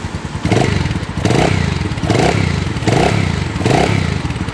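A Phantom 200 motorcycle engine, freshly fitted with a new timing chain, rockers and cam, runs close by in a steady idle with a clattering mechanical tick and a rhythmic surge roughly once a second.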